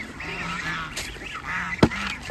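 A flock of about two hundred farm ducks quacks in a steady nasal chorus at middle distance, with a few louder, sharper calls close by near the end and no talking.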